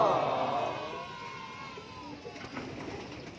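Pigeons coo near a loft, a soft throaty call rising and falling under someone talking, with faint background chatter.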